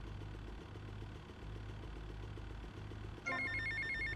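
Telephone ringing in the video game GTA Vice City, entering abruptly near the end as a loud, rapid trilling bell over a low idling car engine that hums steadily beneath.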